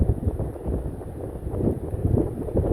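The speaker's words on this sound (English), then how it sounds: "It's nice, it's a southwest wind." Gusty southwest wind buffets the microphone at sunrise in low, uneven rushes, with no voices.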